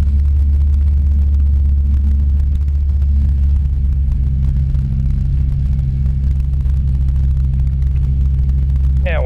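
Sling 2 light aircraft with a Rotax 912i engine taxiing, a steady close, loud low engine drone and propeller hum holding an even pitch throughout.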